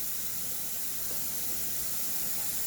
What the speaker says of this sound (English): I'm gonna pour this in here in my strainer.